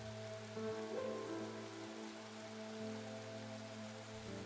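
Heavy rain falls in a steady, dense hiss over a low sustained droning bed, constant and unbroken throughout with no voices.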